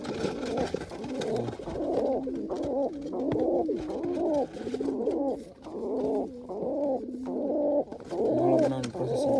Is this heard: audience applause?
no